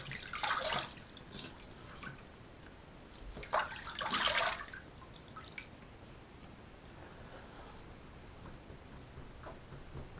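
Water splashed onto the face during a straight-razor wet shave, a couple of brief splashy bursts early on, then faint dripping against quiet room background.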